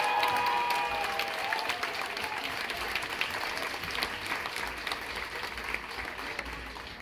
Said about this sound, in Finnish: Otetaan silleen ensinnäkin isot aplodit